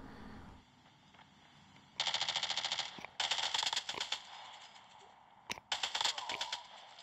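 Bursts of rapid automatic gunfire in a COD Mobile battle royale match, several loud rattling volleys with short pauses and sharp single shots between them.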